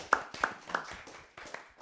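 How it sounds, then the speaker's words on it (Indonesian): A few scattered, sparse claps from a church congregation at a GKJ Joglo 28th anniversary celebration, three distinct sharp hand claps then softer irregular ones fading, quiet and thin rather than full applause. "Tepuk tangan GKJ Joglo"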